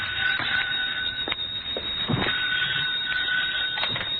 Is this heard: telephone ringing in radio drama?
yes